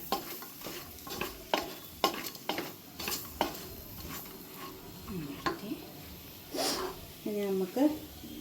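Tomatoes sautéing in a pan are stirred with a utensil: a run of sharp scraping and clanking strokes against the metal over a low sizzle, fairly close, with a voice briefly audible near the end.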